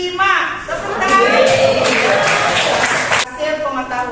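A classroom of students bursts into applause for a classmate, a dense clatter of many hands that runs for a few seconds and then stops, with a teacher's voice heard before and after.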